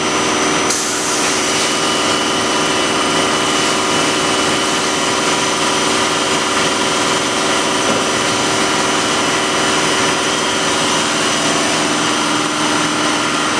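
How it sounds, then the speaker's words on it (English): The pump of a regenerative media filter kicks on with a sudden rise into a loud, steady broadband whir and hum that holds without letup, close by, no speech. "our pump is going to come on"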